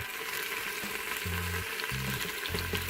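Chicken pieces sautéing in an Instant Pot for Jamaican jerk chicken, a steady close sizzle and fry with low scraping stirs near the end, no voice.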